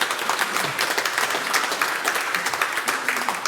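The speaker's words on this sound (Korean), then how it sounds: "우리 환영의 박수 하시겠습니다." A church congregation claps in welcome during a Sunday service, a dense and steady round of applause from many hands filling the room, fairly loud and close, with no talking over it.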